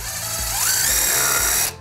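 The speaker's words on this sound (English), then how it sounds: "Start your bit, put the drill on reverse," A power drill whines loudly as it spins in reverse on a screw in thin spruce strapping, the motor pitch climbing and holding steady before cutting off abruptly near the end.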